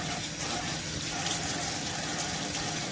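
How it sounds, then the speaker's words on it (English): Steady gush of running tap water as jumbo russet potatoes are rinsed in a sink, continuous and close with no talking. "So what we're going to do is just go ahead and rinse these off."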